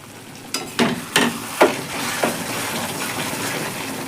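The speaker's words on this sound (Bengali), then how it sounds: "এবার একটু নেড়ে চেড়ে দিলাম" Bean curry being stirred in a pan, several wet scraping strokes of the spoon over a low bubbling simmer, close and moderately loud.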